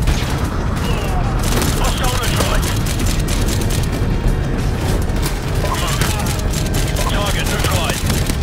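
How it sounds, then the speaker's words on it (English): A flashbang grenade goes off during a Call of Duty 4 Remastered firefight on the Mile High Club mission, a loud blast buried in dense, continuous gunfire and battle noise that never lets up. "Last flashbang here."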